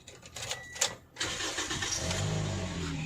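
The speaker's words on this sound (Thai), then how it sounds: "เดี๋ยวผมขออนุญาตสตาร์ทเครื่องยนต์เลยแล้วกันนะครับ" A 2012 Toyota Vios 1.5E engine cranks briefly, then catches and settles into a steady, close idle.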